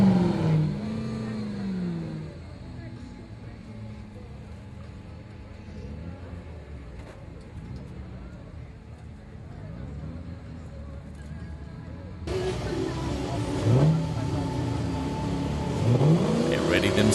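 A 4x4 off-road vehicle at a national off-road challenge event crawls over an obstacle section, engine revving and rising in pitch under a commentator's voice, growing louder near the end.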